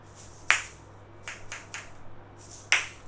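Sharp percussive clicks from an asalato, a West African shaker, sound in a loose rhythm, a few louder snaps among softer ones, close up and alone against faint background hum.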